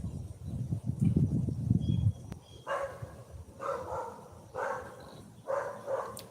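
Several dogs, among them Charlie's brother, give a few nearby barks and yips. A low rumbling burst comes first, then the barks fall in short, uneven clusters with pauses between them.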